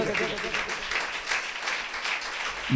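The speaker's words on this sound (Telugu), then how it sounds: "గట్టిగా చప్పట్లు కొట్టి దేవునికి స్తోత్రాలు చెల్లించుదాం" A church congregation claps together loudly in a rapid, steady patter that runs throughout, with a voice faintly underneath.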